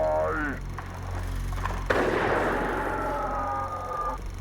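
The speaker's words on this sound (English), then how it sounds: "he just pulled out a revolver and shot him" A single sharp revolver shot cracks out near the middle, its echo trailing off over low background noise.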